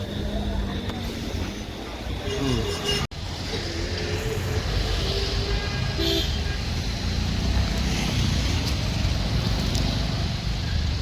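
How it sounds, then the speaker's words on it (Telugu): Busy road noise from a traffic jam, with engines rumbling and a few short horn toots, with a brief cutout partway through; some voices are faintly present. "మళ్ళీ ట్రాఫిక్ జామ్ చూడండి."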